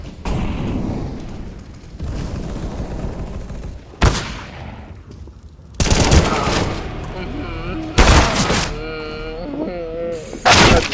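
Gunfire in the video game Counter-Strike: Global Offensive, coming in loud sustained bursts and separate blasts over several seconds, with gaps between the volleys and a voice talking during parts of it.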